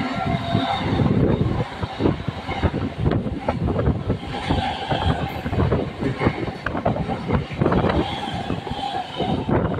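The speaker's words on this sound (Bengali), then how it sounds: "এখন 3 নম্বর লাইন দিয়ে বেরিয়ে যাচ্ছে পদ্মা মেমো।" The Padma MEMU train pulls out on line 3 at a station, a close, loud rumble with rhythmic wheel clatter and rail squeal running steadily throughout.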